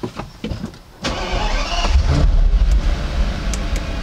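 An Audi A8L W12 engine cranks with a few short bursts, then catches and settles into a steady, loud idle nearby.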